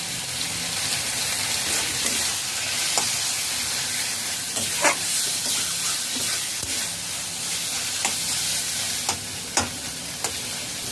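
Curry frying in a pan over a low to medium flame, a steady bright sizzle with scattered soft scrapes and clinks of stirring, close and continuous without talk.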